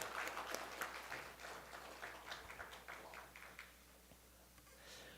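Church congregation claps in unison, a faint round of applause with quick individual claps that thins out and fades after a few seconds.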